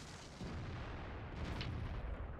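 A tank cannon fires in a video game, giving a loud sustained boom and rumble with a sharper burst partway through, close and alone without talk.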